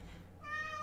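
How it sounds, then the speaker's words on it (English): A house cat whining in the background, a brief faint plaintive meow rising in pitch near the end of a moment of quiet room tone. "yes, that's our cat in the background whining."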